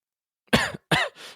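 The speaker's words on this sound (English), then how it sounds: "Starts like coughing." Two sharp, close coughs in quick succession followed by a softer breathy exhale, loud and isolated against silence.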